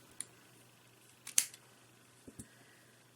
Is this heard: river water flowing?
no